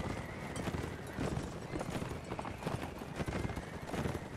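Horses gallop in the video game Mount & Blade Warband, a dense, continuous patter of hoofbeats that stays fairly loud and steady throughout, with no clear talk over it.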